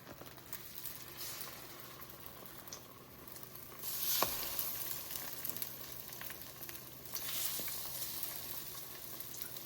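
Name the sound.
French toast sizzling as it's placed in a hot skillet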